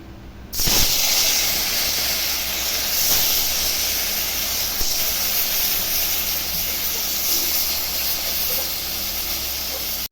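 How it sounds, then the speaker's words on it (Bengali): Sarpunti fish rubbed with turmeric and salt hits hot oil with a sudden loud hiss, then fries in a steady, close, continuous sizzle. "তো মাছটা হলুদ লবণ মেখে নিয়েছি, এখন ভেজে নিচ্ছি।"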